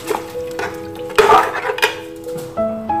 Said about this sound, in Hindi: ये मैंने गोश्त डाल दिया इसके अंदर, इसे मिक्स कर लेती हूँ।